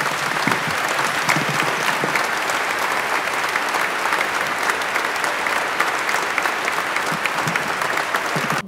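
A large congregation applauds steadily in a reverberant cathedral during Mass, the clapping dense and continuous throughout before stopping abruptly.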